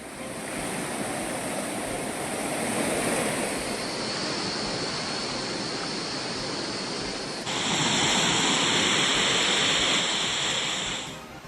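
Thalaiyanai waterfall in the Nellai district, running high with increased flow, gives a broad, steady roar of rushing water that swells louder partway through, with no talk.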